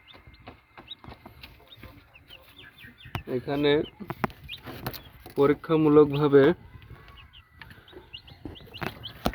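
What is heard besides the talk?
broiler chicks chirping in poultry farm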